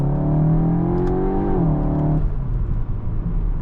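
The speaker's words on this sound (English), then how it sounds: "in Cupra mode, you always have that crazy synthesized engine noise" Synthesized engine note of a 2026 Cupra Leon ST VZ with a 2-liter TSI engine in Cupra mode, revving loud and close with a steady rising tone that drops off abruptly, leaving a rough idle rumble.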